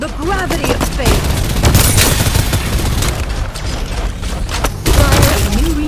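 Gunfire in the mobile shooter Farlight 84 rattles in loud, dense bursts of rapid shots mixed with booms and chirpy game effects, close and continuous across the stretch with brief dips.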